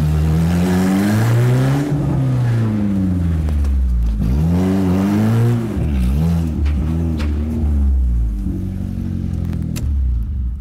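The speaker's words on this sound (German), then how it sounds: "Ich fahre jetzt einfach hier vorne vor und mache einfach eine kleine Wendung sozusagen" A stunt car from a Babelsberg stunt crew pulls forward and swings into a skid turn on wet ground, its engine droning loud and close with revving that rises and falls throughout.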